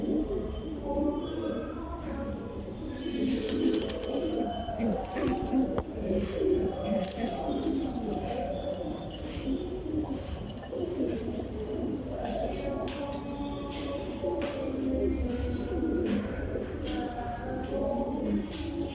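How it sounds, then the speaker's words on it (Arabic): Many pigeons cooing together in a loft in Alexandria, low, throaty, overlapping calls, continuous and close, with occasional wing flutters and scuffles. "الطيره دي داخلها حمام سراويل يا رجاله"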